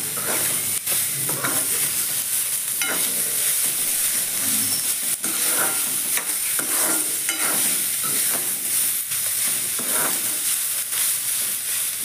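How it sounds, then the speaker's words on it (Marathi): Tomatoes frying in a pan give off a loud, constant sizzle, broken by repeated scraping strokes of a spoon stirring them. "टमाटर घालूया, टमाटर घालून थोडं भाजून घेऊया"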